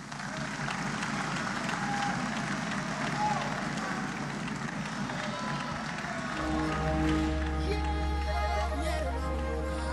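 Audience applause and crowd noise at a mascot presentation ceremony for the 9th Francophonie Games in Kinshasa, following a Prime Minister's speech; dense, steady clapping fills the whole span, with a loud low hum and tonal music entering near the end.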